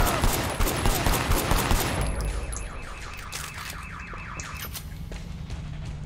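Rapid machine gun fire in the video game Sleeping Dogs, a dense burst of shots for about two seconds that gives way to a rattling, repeating mechanical pattern over steady background noise.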